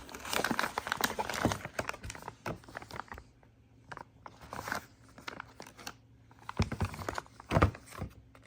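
Sealed plastic wrapping around an AMD RX 6600 video card crinkles and rustles as it is handled up close, in irregular bursts separated by brief quieter pauses.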